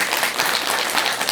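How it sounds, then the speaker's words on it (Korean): An audience at a Buddhist psychology talk gives a round of applause for a questioner, dense continuous clapping filling the room, loud and even throughout a short burst. "오늘 멋진 질문 해주신 우리 거사님께 다시 한번 박수 부탁드릴게요"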